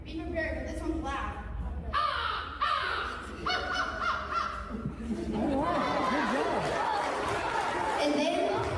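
A voice imitates an American crow, giving a series of loud, harsh caws in quick succession, followed by laughter and lively chatter from others.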